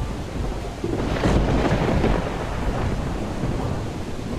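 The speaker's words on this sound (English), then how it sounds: "Hopefully, next episode, the sun will be out, or at least it won't be as stormy." A thunderstorm in Project Zomboid: a low rolling thunder rumble swells and fades over steady hissing rain, continuous and fairly loud with no talking.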